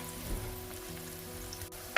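Onions frying in a pan for mushroom kurma, a steady close sizzle and crackle running evenly throughout with no voices.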